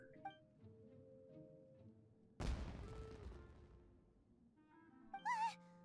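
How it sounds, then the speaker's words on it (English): Firework blast in the Genshin Impact video game: a sudden loud boom at midclip that rumbles and fades over a few seconds, with soft game music before and a bright whistling flourish near the end. "Was that an explosion? It sounded like fireworks."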